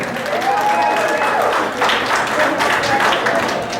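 Crowd applause for the DJ at the Chutney Glow 9.0 event, a steady wash of clapping running the full length with voices and cheers mixed in.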